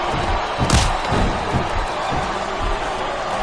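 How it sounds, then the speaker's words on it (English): Arena crowd cheering in the wrestling video game WWE Smackdown vs RAW 2007, a constant loud roar of massed voices with dull in-ring thuds and slams rising through it. "Listen to the crowd, JR."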